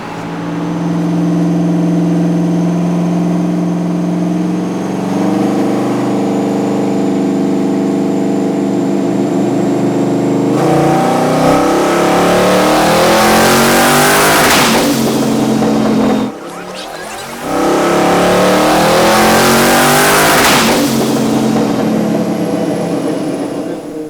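Modded 2021 Ford F-150 on a dyno with the exhaust pulled off, engine droning loudly as revs climb through a long pull, a brief break, then a second roaring pull, close and continuous.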